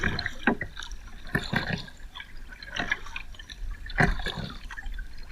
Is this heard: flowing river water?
yes